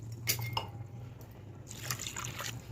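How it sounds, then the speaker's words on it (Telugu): Water poured into a pot of spinach dal with green chillies and turmeric, brief splashing trickles and drips, soft and close, with a quiet pause between pours. "సో ఇప్పుడు నేను తగినన్ని నీళ్లు పోసేసుకుంటాను"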